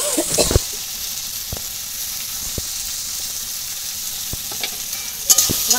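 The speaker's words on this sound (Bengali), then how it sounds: "এবার দিয়ে দেবো থানকুনি শাকের বাটা।" Indian pennywort paste, added to green chilli paste, sizzles in a frying pan with a steady close hiss, broken by a few sharp clicks and scrapes from stirring near the start and end.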